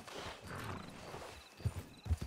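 Horse galloping in the Red Dead RedM roleplay game, with a soft rumble of hoofbeats followed by a couple of louder, heavier thumps near the end.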